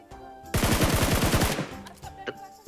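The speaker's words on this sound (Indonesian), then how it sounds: "Wait, ada yang nembak gua." Automatic gunfire in the battle royale game PUBG: a rapid burst of about ten close, loud shots over one second, then fading echoes and scattered small clicks.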